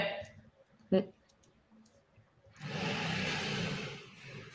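A single sharp click from pressing the Start button to begin recording a French SEO webinar, followed a moment later by a steady burst of hiss-like noise.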